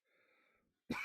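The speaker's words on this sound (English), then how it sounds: "Maybe you guys are right about this cough." A single short cough bursts out loud and close after a faint wheezy intake of breath and a moment of silence.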